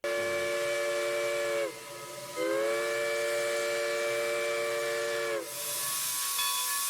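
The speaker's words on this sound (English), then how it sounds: "that's a crisp whistle." A loud steam locomotive whistle sounds in two long blasts separated by a short gap, followed by a burst of hissing steam.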